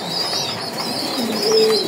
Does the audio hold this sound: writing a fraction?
no